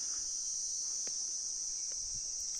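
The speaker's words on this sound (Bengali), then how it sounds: "ঝিঁঝি পোকার ডাক শোনা যাচ্ছে।" Crickets chirp in a steady, continuous high-pitched drone at a quiet homestay in the village of Ichhegaon, with faint scattered sounds beneath and no talking.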